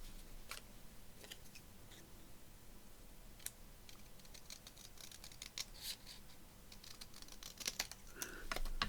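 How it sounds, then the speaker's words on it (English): Scissors trim the top off a piece of card ephemera with a run of quiet, close snips and clicks, scattered at first and busier toward the end. "So let's trim that top off."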